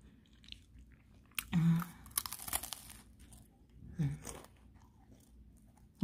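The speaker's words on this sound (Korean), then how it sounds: "그럼 먹어볼게요." Crisp bites and crunchy chewing on a handmade nougat cracker, eaten close to the microphone, with a few separate loud crunches followed by quieter chewing and crinkling in a quiet room.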